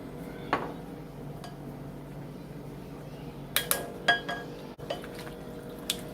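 Ravioli are tossed together in a baking dish, with soft clinks and taps of a utensil against the dish and a few sharper knocks near the middle, set against a quiet room.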